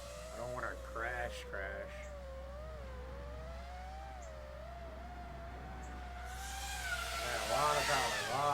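An FPV freestyle drone, a Nazgul Evoque F5 V2, flies with a continuous whining motor tone that rises and falls with the throttle and swells louder toward the end, while someone talks over it.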